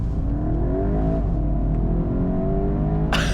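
A 2022 VW Golf GTI MK8 accelerates hard from inside the cabin, its engine note climbing steadily in pitch through the gear, with a brief dip around a shift and a sharper burst of noise near the end.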